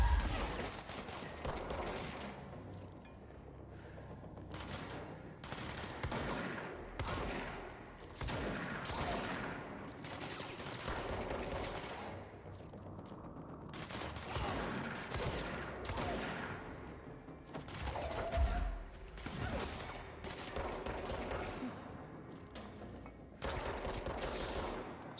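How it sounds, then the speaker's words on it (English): A shotgun firing in an SCP video game, loud blasts and bursts of gunfire crowding a continuous stretch of combat noise, dense and close, with mechanical clatter between the shots. "Shotgun, baby!"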